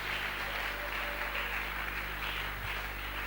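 A church congregation applauding after a pastor's sermon, a continuous wash of distant clapping, fairly faint and even, over a steady low hum.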